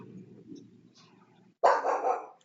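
Several dogs break into loud, close barking after a soft muffled stretch, a burst of overlapping barks that continues to the end.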